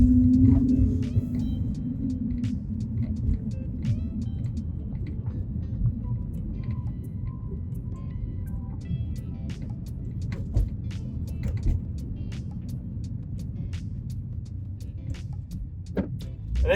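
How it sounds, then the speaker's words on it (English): A car rolls past on a quiet residential street in a suburban neighborhood of Murphy, Texas, its steady low rumble holding for the whole stretch with no one talking. "Wait for this car to pass."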